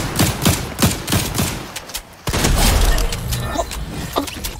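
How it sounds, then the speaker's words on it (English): Heavy shotgun blasts in a frantic video game firefight, a string of loud, sharp booms at irregular intervals with rattling debris and gunfire clutter around them, and a dense burst of noise toward the end. "And that's why I like the heavy shotgun"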